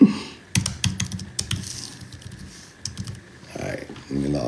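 Rapid clattering keystrokes on a computer keyboard in irregular bursts, close and crisp, with a voice talking briefly near the end.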